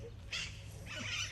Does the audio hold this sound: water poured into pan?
no